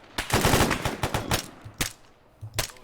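Automatic-weapon gunfire in the military game ArmA 3, loud close bursts of rapid shots followed by a few separated single cracks, no talking over it.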